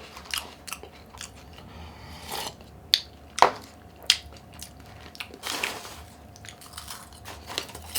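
Snack crackers being bitten and crunched alongside crab-flavored cup ramen, with sharp close crunches scattered over about eight seconds amid softer chewing and mouth noises.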